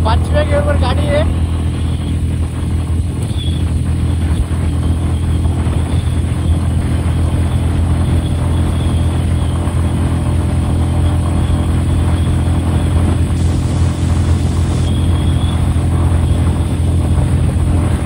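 A Royal Enfield Classic 350 motorcycle cruises in fifth gear on a city road, its engine a steady low drone mixed with constant wind rush, loud and continuous throughout.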